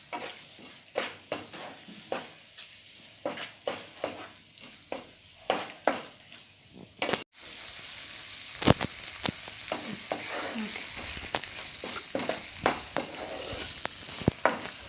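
Chillies and spice powders sautéing in oil for a Kerala fish curry, giving a steady close sizzle broken by repeated scraping stirs; after a brief cut midway, the frying turns denser and louder with more stirring.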